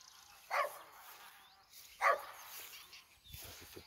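Dog barking in the French countryside, two single distant barks a second and a half apart over quiet outdoor ambience, with faint low sounds at the end.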